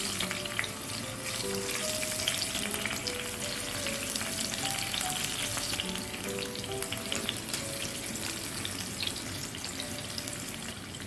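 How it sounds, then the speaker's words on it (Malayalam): Fish pieces frying in hot coconut oil with curry leaves, a loud continuous crackling sizzle, close and even throughout, with no talking. "ഇനി നമുക്ക് നമ്മുടെ മീൻ കഷ്ണങ്ങളെല്ലാം ഫ്രൈ ചെയ്തെടുക്കാം"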